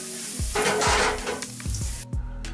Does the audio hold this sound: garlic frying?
yes